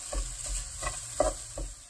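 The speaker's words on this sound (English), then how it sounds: "Mix everything very well." Cooked vegetable filling for veggie rolls is stirred in a pan, giving four or five soft rhythmic scrapes over a low, steady sizzle, close and fairly quiet.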